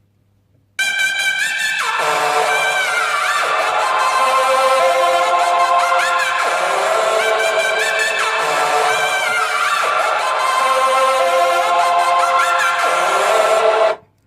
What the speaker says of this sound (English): So this synth, I used the plugin from FL Studio.